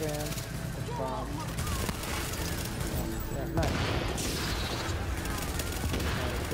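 Gunfire in The Division video game: rapid bursts of automatic shots and booms pile up continuously over dense game noise and music, with a voice talking over part of it.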